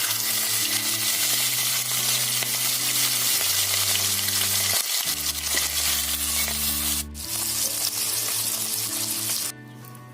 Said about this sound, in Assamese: ভালকৈ গৰম হোৱাৰ পাছত এতিয়া আমি মাছখিনি দি দিছোঁ।